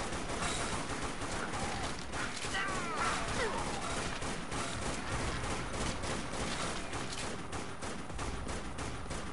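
Dense, rapid gunfire in the zombie shooter Dead Nation, a continuous crackling barrage of shots over the whole stretch, fairly faint and without talk.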